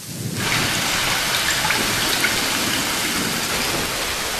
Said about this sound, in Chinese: 那天雨特别大，雨水这个下的简直都是瓢泼大雨一样的，正好这个石岗机场就像这种雷声啊